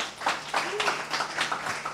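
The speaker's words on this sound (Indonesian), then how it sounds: "Kasih tepuk tangan buat Tuhan Yesus." A church congregation claps in praise during a worship service, a brief scattered burst of hand claps close by with talk over it.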